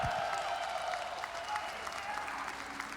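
A CitizenCon audience applauds in a large hall, a steady, fairly quiet patter of clapping that carries on for several seconds with a low murmur underneath.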